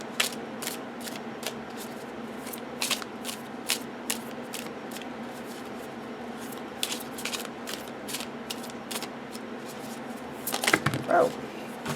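Fountain Tarot cards shuffled by hand, a steady run of soft riffling flicks and card taps close by, with a louder handling flurry near the end.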